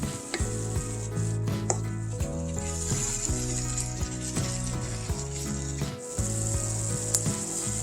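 Ground beef and onions sizzle in a pan as they are stirred, a steady close hiss of frying with occasional stirring scrapes, set against continuous background music.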